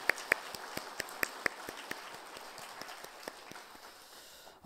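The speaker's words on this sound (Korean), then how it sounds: "감사와 감격하는 마음으로 우리 하나님께 영광의 박수를 한번 올려드리겠습니다." Church congregation at a Christmas Sunday service applauding, a brief burst of sharp claps that quickly thins out and fades to near silence.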